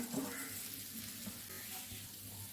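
Fried onions and masala sizzle in oil in a pan for chicken vindaloo, a steady, moderately faint hiss with light stirring scrapes and small clinks, no voices heard.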